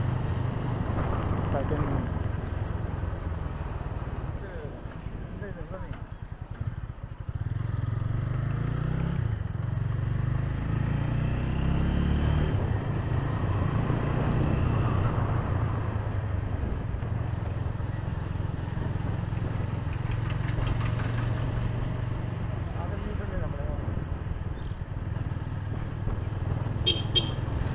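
A motorcycle engine runs steadily in a higher gear, a loud continuous drone with slight rises and dips throughout, and a voice speaks briefly over it.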